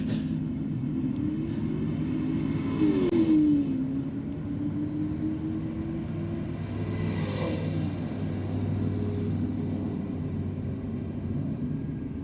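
A Holden HZ drag car rolls through at Sydney Dragway, its engine a steady low rumble with a rising tone partway through, heard fairly far off over constant track noise.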